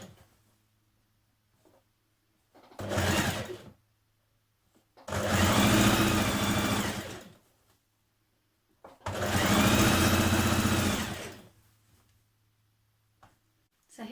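A domestic sewing machine stitches a basic turned-up hem on an overlocked gathered skirt in three bursts. The first is short and the next two are longer, separated by quiet pauses, with a faint steady hum between them.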